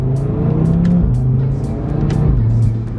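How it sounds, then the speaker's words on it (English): A Stage 1 tuned 2018 Audi RS3 hot hatch with a 7-speed DSG, around 510 bhp, revs loud and close through a downshift in manual mode, engine note steady then dipping and rising with no talk over it. "Downshift. Instant response, couldn't ask for much more out of a hot hatch"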